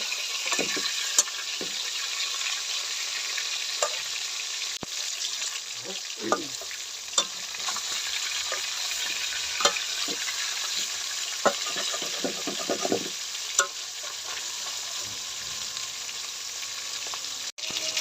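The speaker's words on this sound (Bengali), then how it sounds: "মাছগুলা ভাজা হয়ে গেছে এবার নামাই নিব" Pieces of kali baus fish fry in hot oil with a constant loud sizzle, broken by occasional clinks and scrapes of a spatula turning them in the pan.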